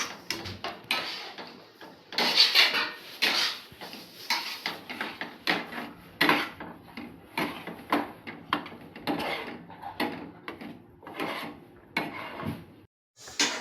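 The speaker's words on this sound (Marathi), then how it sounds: "तर बघा मी असं परतून घेत आहे" Fenugreek (methi) masala paste is sautéed and stirred in a pan at home, with a spoon scraping and rubbing the pan in quick, irregular strokes. The close, dry scraping comes in bursts with short pauses between, and no one speaks.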